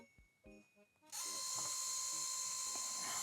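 A small photo printer from Temu printing: a few soft clicks and mechanical whirs, then a loud, steady, high-pitched whine of the feed motor that holds to the end.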